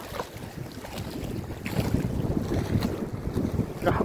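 Strong wind at sea buffets the microphone on a fishing boat, gusty roaring rush rising and falling over waves, loud and close throughout.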